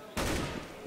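UMP submachine gun fire in CS:GO, a single loud, sharp burst of rapid shots that bursts in abruptly and rings out over about a second.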